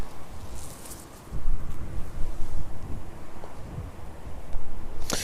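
Storm Amy's strong gusting winds at East Midlands Airport roar and rumble steadily across the microphone, swelling in uneven surges, with a sharp, harsh blast near the end.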